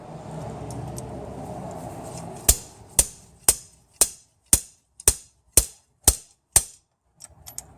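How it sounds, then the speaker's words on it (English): A slide hammer pulls out a rear main crankshaft seal with nine sharp, evenly spaced metallic impacts, each ringing briefly, loud and close, after a quieter stretch of handling noise. "Now I've got my slide hammer."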